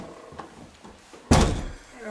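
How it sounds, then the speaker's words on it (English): A front door of a Whistler condo unit swings open with one loud, close thump partway through, followed by a short fading rattle against a quiet room. "coming in the door"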